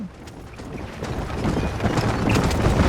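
In the Red Dead Redemption video game, horse hooves clip-clop steadily over the ground as a carriage is pulled along, with a continuous rumble beneath that grows louder over the clip.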